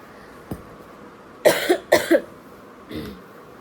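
A few dry coughs close up from a person with a cold: one short bark, then two quick pairs of coughs, and a softer one at the end, with quiet between.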